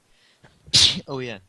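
A sneeze bursts out loudly and close, a single sharp explosive sound during a game session, followed by a short spoken reply.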